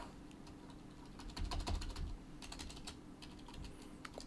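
Keystrokes on a worn computer keyboard with a broken A key and an odd-feeling space bar, clicking in quick irregular bursts, close and fairly quiet, with a heavier thump cluster midway.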